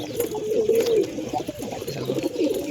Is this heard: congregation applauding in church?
no